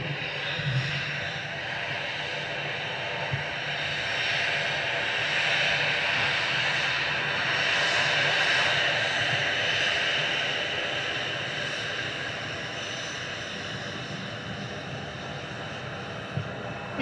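An EasyJet airliner at Manchester Airport, bound for Amsterdam, roars steadily in the distance, a broad engine drone that swells and fades gently over the whole stretch.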